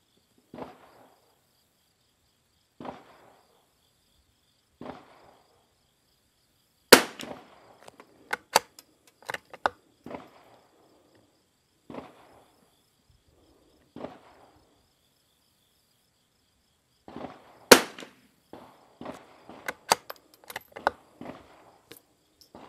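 Rimfire rifle shots, including a CZ455 and other .22 rifles such as a Lithgow LA101 and Ranger 22, firing RWS R50 ammunition at targets outdoors. Sharp isolated cracks come a few seconds apart, then a quicker cluster of shots follows.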